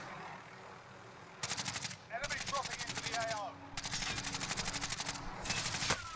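Automatic gunfire rattles in rapid bursts during a Call of Duty Warzone match, several sustained volleys of shots separated by brief pauses, loud over faint background game noise.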